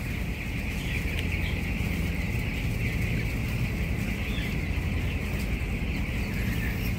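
Broiler chickens in a poultry house on a hot day, a dense, constant flock murmur of soft clucks and chirps, steady and moderately loud throughout.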